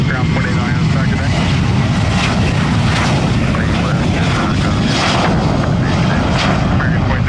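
An airliner roars loudly and steadily at Orlando International Airport, a broad jet rumble that fills the whole clip without fading.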